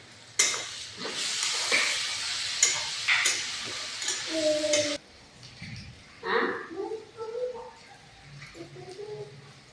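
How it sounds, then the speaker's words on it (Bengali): Ginger, garlic paste and onion frying in a pan while being stirred, a busy sizzle with scraping strokes for the first half before it thins out, with birds cooing and chirping in the background. "আদা রসুন পেঁয়াজ ভাজা ভাজা হয়ে গেছে"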